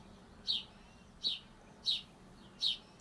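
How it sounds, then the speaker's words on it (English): On a cool, cloudy morning with a slight breeze, a single bird gives four short, evenly spaced chirps about every three quarters of a second, moderately close over a quiet hiss of outdoor ambience. "Birds are singing."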